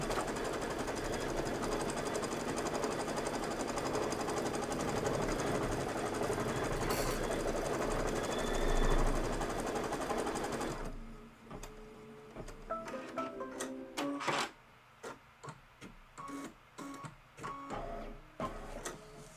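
An embroidery machine stitching a candy cane base runs with a steady loud mechanical whir for about ten seconds, then slows into irregular, quieter ticking and clacking stitches.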